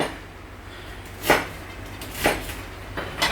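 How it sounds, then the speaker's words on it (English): A knife cubes an onion on a board, giving a few sharp, spaced chopping knocks at a steady, unhurried pace against a quiet background. "Cube the onion. We're just going to cube the onion nice and steady."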